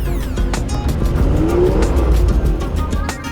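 A car drives along steadily with a continuous engine and road rumble, fairly loud and close, with a brief rising tyre or engine whine partway through and no talk.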